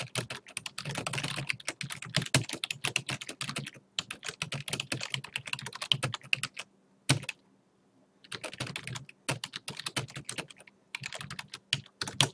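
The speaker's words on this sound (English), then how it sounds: "So as you can see, I'm typing." Rapid clattering keystrokes on a computer keyboard come in steady bursts with brief pauses between, close and clear with no talking.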